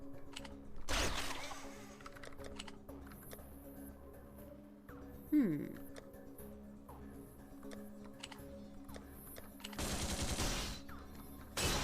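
Scattered gunshots and short bursts of fire in a video game, with mechanical clicks between them, loudest near the start and again near the end, set over a steady low game hum.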